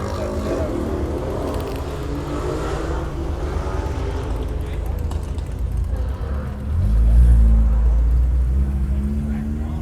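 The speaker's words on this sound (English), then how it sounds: "Everybody's out revving the hell out of their cars." Cars rev their engines along a busy street in Niagara Falls, a low steady rumble of traffic swelling into a louder, deeper engine roar partway through, with people's voices mixed in beneath it.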